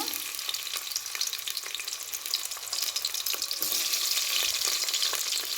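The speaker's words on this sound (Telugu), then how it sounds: "నేనైతే ఇప్పుడు ఆనియన్ వేసుకుంటున్నాను" Sliced onions fry in hot oil in a pressure cooker, a loud, steady, close sizzle with occasional stirring scrapes, and no voices.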